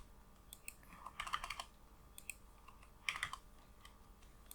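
Values typed into a chart in Microsoft Word on a computer keyboard, two quick bursts of soft key clatter with scattered single taps, quiet and close, no speech.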